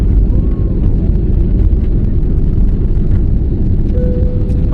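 Airplane cabin during takeoff from Bangkok airport: a loud, constant low engine rumble fills the cabin, with a faint rising tone near the end.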